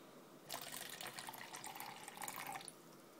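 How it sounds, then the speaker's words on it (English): Water is poured into a container to mix plaster for casting Hirst Arts dungeon molds, a close, soft splashing stream lasting about two seconds between quiet pauses. "So I pour my water in here."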